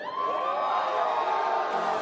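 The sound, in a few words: crowd cheering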